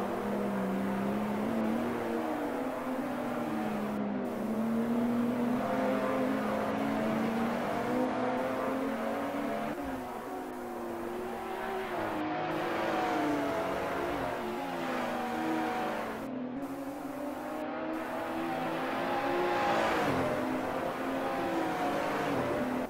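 BMW race cars circle the Okayama circuit in Japan in the Assetto Corsa racing game, a steady engine drone rising and falling through gear changes, loud and continuous with no talk over it.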